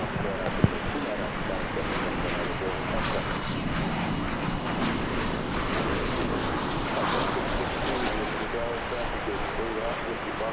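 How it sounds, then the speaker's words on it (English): An American Airlines Boeing 737-800 arriving at DFW airport gives a continuous broad jet engine roar across the whole stretch, while someone talks over it. "That's American Flight 2272, 737-800 that just arrived from"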